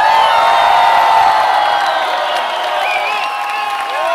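A large concert crowd at a show on a tour in Europe cheers, whoops and applauds loudly and continuously, with shrill shouts rising above a dense wall of clapping.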